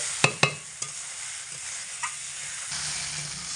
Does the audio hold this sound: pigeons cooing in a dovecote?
no